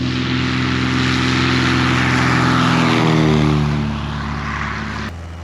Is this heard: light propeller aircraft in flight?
yes